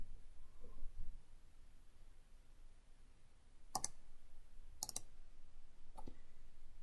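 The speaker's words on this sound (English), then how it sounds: "I'll click on this button here." A computer mouse button clicked a few times in a quiet room, sharp isolated clicks at irregular intervals over faint background hiss.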